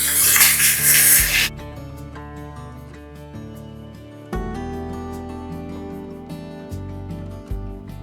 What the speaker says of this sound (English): Going to add water.